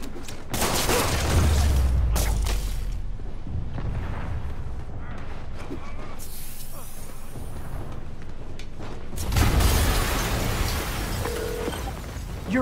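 Heavy booming blasts and rumbling explosions in Marvel's Spider-Man on PS4 fill the scene, with a loud burst near the start and another around the end, over continuous dense action noise.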